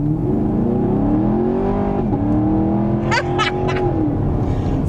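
A 2019 Chevrolet Camaro SS with a 6.3 litre V8 accelerates hard on a bush road, its loud close engine note rising steadily through the gears, with a brief shift dip and faint overlapping voices near the end.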